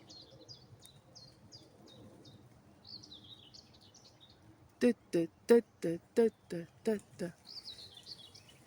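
Common chiffchaff singing from an oak tree, heard as a run of about eight sharp, evenly spaced chirps. The song comes in loud and close after quieter, distant twittering from other birds.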